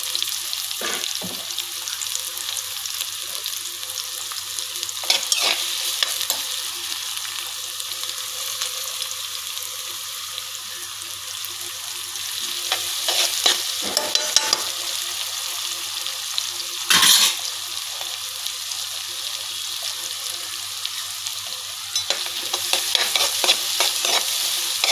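Onions and green chillies with a little turmeric sizzle steadily in a pan, with a constant hiss and repeated sharp scrapes of a spoon stirring them, close and alone without talk.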